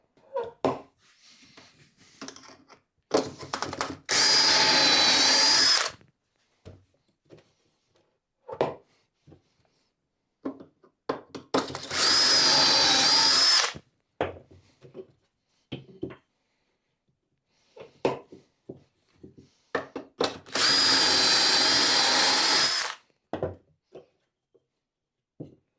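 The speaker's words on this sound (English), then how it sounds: "I'm going to give these a really quick sand over" Scrap wood pieces get a quick rustic sanding with a power sander, three separate bursts of dense, loud whirring grit noise of about two seconds each, spaced apart by quiet handling knocks and clatter between passes.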